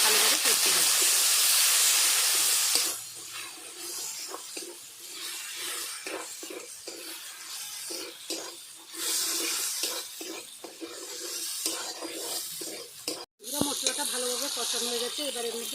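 Spice paste with chilli and turmeric powder hissing and steaming loudly as a little water hits the hot pan, the burst fading after a few seconds into softer sizzling for potato and pea curry, with a voice talking over it.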